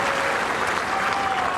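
A tennis crowd at a Dubai match breaks into steady, loud applause, a dense continuous clapping that fills the whole moment.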